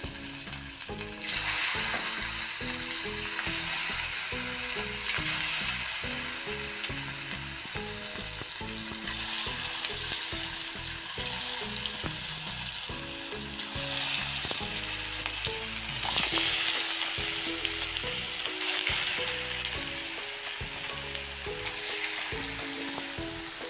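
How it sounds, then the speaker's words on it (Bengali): Chicken pakoras deep-frying in hot oil over a low-medium flame, a dense continuous crackling sizzle sustained throughout, with occasional spoon movements and soft music underneath. "এবার গরম তেলে আমি একটা একটা করে পকোড়া ছাড়বো।"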